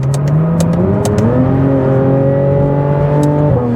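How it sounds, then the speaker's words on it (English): A loud Porsche 992 GT3 RS engine revs and accelerates, its exhaust note climbing steadily through the gears with a rising roar. "when you hear it fire up and take off, from the outside this car sounds incredible"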